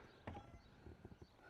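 A pony's hooves clip-clop over an obstacle in a few uneven, fairly quiet steps, with a sharper knock early on and no talking.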